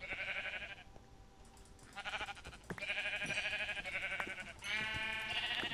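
Sheep in the video game Minecraft bleat several times in quick succession, each call a clear, nasal, wavering cry, heard close and alone.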